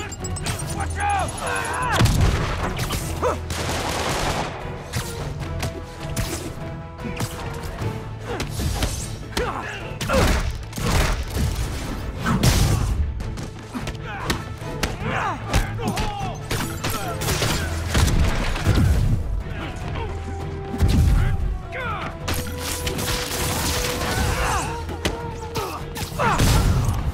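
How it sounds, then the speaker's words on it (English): Repeated booming grenade blasts and heavy thuds from a Marvel's Spider-Man game on PS5, loud and dense across the whole stretch, layered with gunfire-like bursts and mechanical clatter. "Throwing a grenade! Watch out!"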